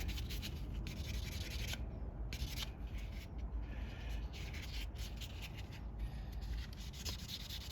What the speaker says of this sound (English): I'm going to shine the whole ring.